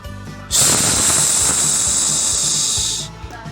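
Gram flour batter hitting hot sunflower oil for ladu boondi, a sudden loud, steady hiss and sizzle that holds for about two and a half seconds before cutting off, close and alone.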